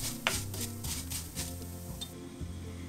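Vermicelli fries in vegetable oil in a pan while being stirred continuously, giving quiet, steady scraping and rustling with a faint sizzle, close and low in level with no talk.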